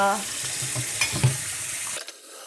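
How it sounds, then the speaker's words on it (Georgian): Leftover breakfast dishes are washed in a kitchen sink. Running water splashes with a light clink of crockery for about two seconds before the sound cuts off abruptly. "რა თქმა უნდა, საუზმიდან შემორჩენილი ჭურჭლის გარეცხვა"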